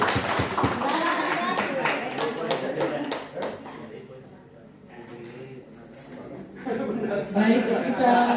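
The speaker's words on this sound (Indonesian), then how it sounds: "kita beri tepuk tangan sekali lagi untuk puskesmas Lembang" Audience clapping for a team at a health-center quiz competition, a burst of many hands that fades out and gives way to a quiet stretch before voices return.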